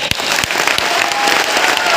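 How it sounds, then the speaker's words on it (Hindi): Audience applause at a seminar, with dense clapping from a crowd filling the room steadily for two seconds, loud and close, with no talking. "तो ताली जोरदार तरीके से अपने लिए बजाइए तो एक बार"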